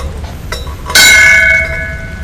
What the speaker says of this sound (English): he's gonna ring the bell now for the moment of silence